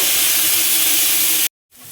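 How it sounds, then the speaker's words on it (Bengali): Jackfruit frying in hot mustard oil in a wok, a loud steady hiss and spray that cuts off abruptly near the end, then resumes more faintly. "এঁচোড়টা দেখো আমি একটু ভেজে নেব।"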